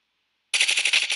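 Rapid automatic gunfire in Call of Duty Modern Warfare Warzone bursts in after half a second of near silence, about eight close, loud shots in a fast even rhythm.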